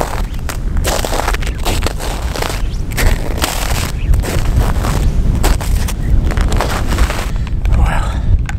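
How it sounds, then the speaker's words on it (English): Strong, cold wind gusts hard across an exposed mountain hillside, roaring and buffeting the microphone in a loud, continuous rumble with rising and falling surges throughout. "I don't know if you can hear me over the wind."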